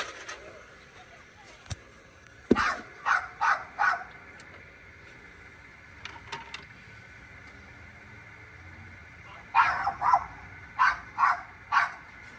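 A dog barks in the background during routine engine maintenance, sounding in two bursts of four to five quick barks with quieter yips between, moderately distant, while someone talks intermittently.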